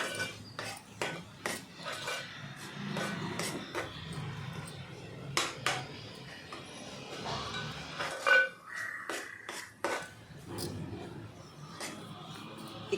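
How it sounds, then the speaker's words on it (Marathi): Ground masala paste being sautéed in oil in a pan, heard as a series of sharp spoon-on-metal clinks and scrapes in an irregular rhythm, with faint voices at times. "वाटण आपल्याला तेलामध्ये चांगल्यापैकी परतवून घ्यायचं आहे."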